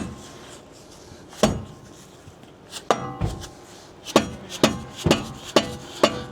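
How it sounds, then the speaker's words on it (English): Metal hammer strikes on the front wheel bearing of a 2020 Ram 3500 dually truck, a few isolated sharp blows early then a quicker series of loud impacts, each ringing briefly, with no talk. "There's a reason I bought like crowbars and pry bars and hammers."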